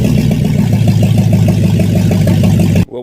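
A VE Valiant's engine runs close and loud as the car moves under its own power for the first time since 1981, a steady low pulsing throb that cuts off abruptly near the end.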